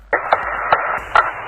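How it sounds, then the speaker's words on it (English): An archival Apollo 12 recording of a core tube being hammered on the Moon: four sharp metallic strikes ring out at uneven intervals over a constant radio-like hiss, each hit brief and crisp. "this is the sound of such hammering"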